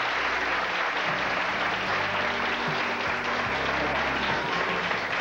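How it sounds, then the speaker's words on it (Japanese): An audience's sustained applause greeting a director arriving on stage at a television special, an even wash of clapping running throughout with faint low voices or music beneath. "盛大な拍手でお迎えください"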